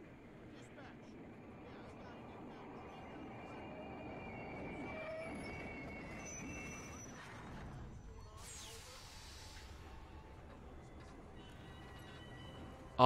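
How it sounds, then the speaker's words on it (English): A train rolls past in the video game Hitman Absolution, a steady rumbling wash of rail noise with faint wheel squeal that swells and then fades over several seconds, heard with a voice talking over it. "Here comes our train."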